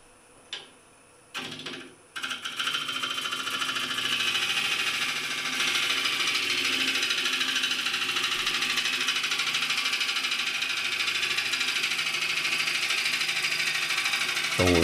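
A wood lathe turns a hemispherical bowl blank, a steady whirring drone with scraping cutting noise that starts after a few brief knocks and holds on loudly and continuously with no talk.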